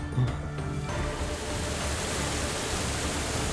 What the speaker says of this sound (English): was the sound of water. I guess it's like a waterfall.